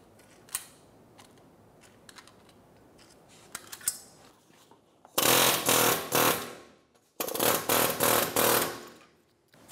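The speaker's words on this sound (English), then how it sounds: "Keep going back and forth with your air hammer." An air hammer hammers at a rear wheel bearing hub assembly on a 2012-2016 Subaru Impreza, firing in two loud rapid bursts of about two seconds each after quieter scattered workshop clinks.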